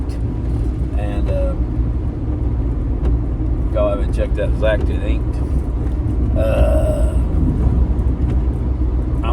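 A car drives through a big old town, its low engine rumble and road noise running steadily throughout while someone talks over it nearby.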